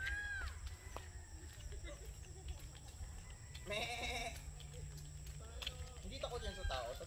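Several goats bleat on a farm, their calls standing out over a continuous background hum. A few bleats cluster in the middle and again near the end, and people talk quietly nearby.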